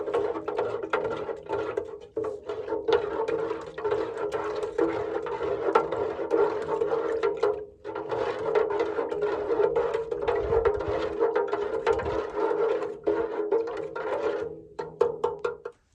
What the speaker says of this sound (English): So I'm gonna stir this up.